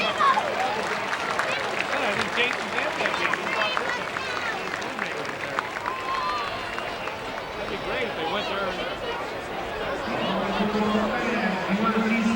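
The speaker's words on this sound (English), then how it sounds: "Let's give this final group of entertainment a big round of applause" A stadium crowd at a college football halftime show claps and murmurs for the final entertainment group, a broad, fairly distant roar of applause and chatter running throughout, with voices mixed in underneath.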